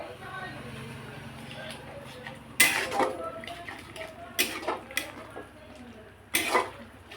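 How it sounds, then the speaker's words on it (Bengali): Metal utensil clanks and scrapes against a pan as lemon chicken curry is stirred in oil, several sharp knocks spaced apart over a low steady cooking hum, near and fairly loud. "তো আমি এখন এটা ভালো করে নাড়িয়ে নেব।"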